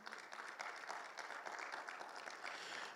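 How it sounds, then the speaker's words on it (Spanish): Steady applause from a crowd at a Bible seminar, a continuous patter of many hands clapping, somewhat distant and moderate in volume. "Déselo fuertes aplausos al Señor."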